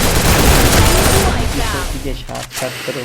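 An MP40 submachine gun fires in a video game match as dense, loud rapid-fire bursts that pile up with other gunfire and then thin out near the end.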